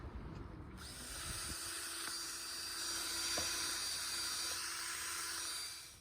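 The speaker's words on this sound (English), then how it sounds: "you're just using a drill and a wire wheel" A handheld drill spins a wire wheel against the oily, grimy rear differential of a Mercedes 107 SL, giving a steady, close, hissing, scratchy whir that runs without a break.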